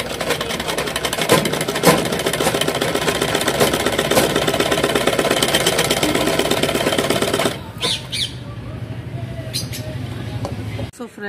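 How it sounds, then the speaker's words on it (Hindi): A sewing machine stitches elastic into the centre of a child's skirt, a steady fast mechanical whirring running continuously for several seconds before easing into quieter, stop-start motor sounds at the end. "अब मैं इसको हल्के हाथ से खींच करके अब मैं इसमें सेंटर में इलास्टिक की सिलाई चला दूँगी।"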